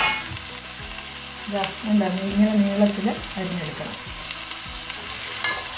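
Chopped brinjal hits a hot pan and sizzles, a steady crackling fry that swells briefly while someone speaks over it.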